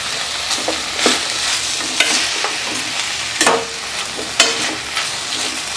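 Curry leaves and whole dried and green chillies sizzle in hot oil in a frying pan while tempering for coconut milk biryani, a steady close crackle with sharp spattering bursts every second or so.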